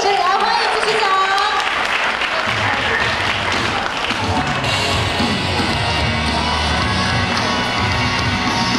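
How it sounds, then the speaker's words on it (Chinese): Audience applause with cheers and whoops welcoming an award presenter at an awards ceremony, a loud, sustained crowd clapping throughout with shouting mixed in. "掌声欢迎"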